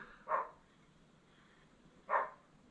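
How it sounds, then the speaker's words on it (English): A dog barks twice, a couple of seconds apart, fairly faint and some distance away. "Dog's barking."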